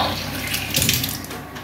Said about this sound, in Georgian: წყალი გაუშვი